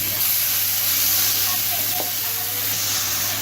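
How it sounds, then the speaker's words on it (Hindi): Onions hit hot oil in a pan for a restaurant-style green karahi, giving a loud, continuous close-up sizzle and hiss with no pauses. "ऑयल गर्म हो चुका है, अब हम प्याज डाल लेंगे।"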